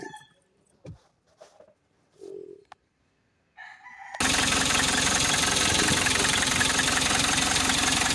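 A Hyundai H100 van engine cranks and catches suddenly, then runs at a loud, steady diesel-like idle with a dense knocking rumble, after a few seconds of quiet scattered background noises.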